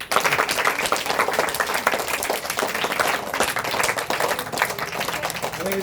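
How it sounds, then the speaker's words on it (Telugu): Audience applause at a primary school graduation day ceremony, continuous mid-level clapping from a crowd of parents and children that carries on for several seconds. "క్లాప్స్."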